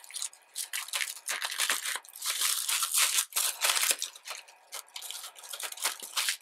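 Scissors cut through crinkly plastic packaging on K-pop albums, giving close, dense crackling and snipping in irregular bursts, loud and busy with a few short pauses.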